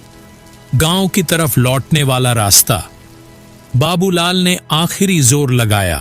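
Steady rain patters faintly in the background of a Hindi horror story, running continuously beneath a man's loud, close narration.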